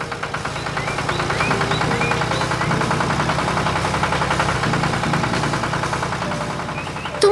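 An animated green Fendt tractor's engine chugs at a steady, rapid knocking beat, with faint cartoonish whistles and chirps laid over the continuous mechanical putter.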